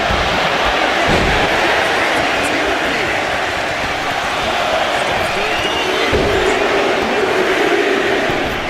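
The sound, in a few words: arena crowd cheering in a video game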